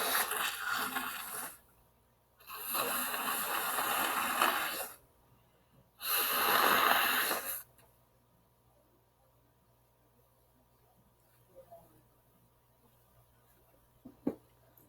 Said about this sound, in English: pause while I blow my nose